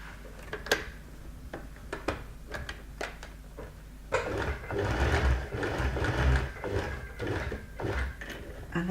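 Close, fairly quiet sewing machine running a straight stitch: a few isolated clicks and short starts, then a steady rapid mechanical chatter.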